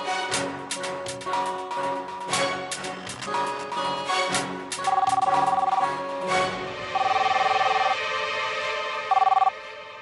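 A telephone rings repeatedly in an office scene from a Hindi TV serial, its electronic trill sounding in loud bursts over background music.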